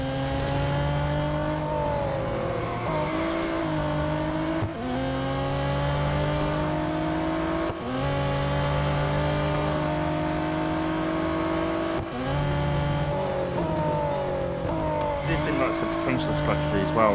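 Race car engines from the Real Racing 3 video game drone continuously at steady loud volume, with shifting pitch through gear changes and brief dips, while a voice talks over the top.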